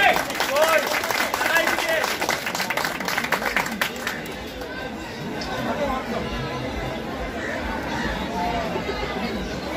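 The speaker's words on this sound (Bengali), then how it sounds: "আপনারা সকলে করতালি দেন।" Crowd at a village fair, Nagar Pirtala in Murshidabad, clapping and cheering to welcome a local MLA, loud and dense applause in the first few seconds giving way to steady crowd chatter and hubbub.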